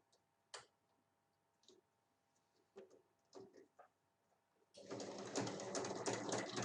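Scattered faint clicks lead into a sewing machine running steadily at close range, topstitching fabric for a vanity case with a dense, buzzing stitch sound.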